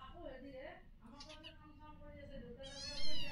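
Kittens meowing indoors at a home at night: several drawn-out, wavering mews close by, with a higher, louder cry near the end.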